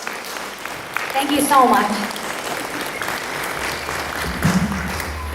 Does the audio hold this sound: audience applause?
yes